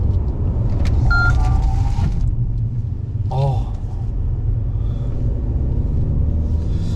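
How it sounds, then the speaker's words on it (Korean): A Mercedes-Benz CLS 300d diesel rolling along at about 90 km/h with steady low road rumble and engine noise that eases as it brakes hard, with a brief squeal partway through. "브레이크 테스트 한번 해볼 텐데 지금 속도가 한 90km거든요"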